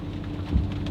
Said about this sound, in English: now it's fucking raining and the shit's getting wet